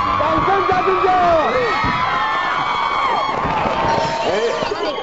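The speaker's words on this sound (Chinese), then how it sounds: "掌声加尖叫！" A studio audience on a Taiwanese variety show greets a guest with excited high-pitched screams and cheering, a loud, continuous crowd din with shrill squeals rising over it.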